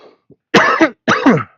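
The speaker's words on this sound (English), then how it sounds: "sorry for all the coughing. Just got a dry throat" Two harsh, dry coughs close to the mic, each a short burst with a raspy tail, preceded by a faint throat noise.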